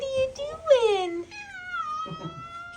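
A pet cat nicknamed the Christmas cat meows several times up close, with drawn-out, wavering cries that rise and fall, mixed with a brief soft voice in the room.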